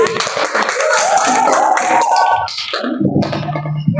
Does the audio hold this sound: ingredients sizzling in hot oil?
no